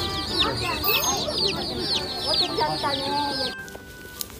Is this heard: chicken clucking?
yes